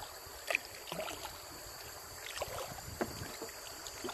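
Canoe moving through fast water on the Thames, with faint, close splashes and gurgles against the hull and occasional paddle dips over a soft rushing background.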